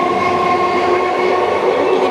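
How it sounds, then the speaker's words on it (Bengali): A train pulling out of a station makes a loud, steady rumbling drone with a continuous mechanical hum and no talking. "টিকিট কাটলাম, ট্রেন বেরিয়ে গেল।"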